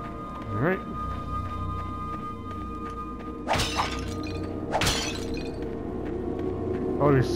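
A few sharp shattering crashes of objects smashed with a club in a video game, spaced several seconds apart over low game ambience and a voice talking.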